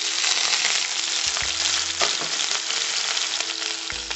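Green chillies fry in hot oil for Gobi Manchurian, giving a steady bright sizzle close by, with a few soft knocks of a spoon or pan along the way.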